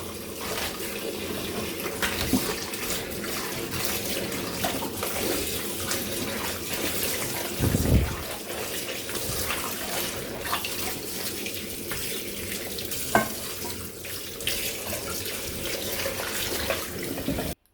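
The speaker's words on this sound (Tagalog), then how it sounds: "So, hugasan muna natin yung ating repolyo." Cabbage is washed under a running kitchen tap, a steady rush of water with occasional splashes and brief handling knocks throughout, no talk.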